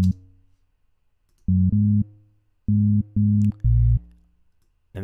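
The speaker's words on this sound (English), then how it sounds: "I would double this bass line onto this other tune, and it's the same part, but it's going to be played an octave higher" A synth bass line in electronic music is doubled an octave higher, heard as short, punchy sustained tones in separate bursts with gaps of silence between, loud and close, with no talking.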